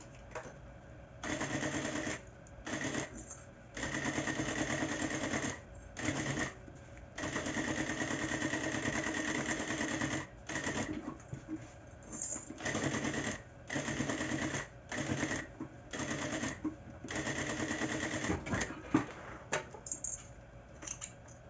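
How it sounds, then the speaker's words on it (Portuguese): A sewing machine stitches a fabric bag lining and pocket in repeated bursts, each a fast, even mechanical whir separated by short pauses, close and moderately loud. "E agora eu vou passar uma costura de segurança, prendendo o forro e o bolsinho."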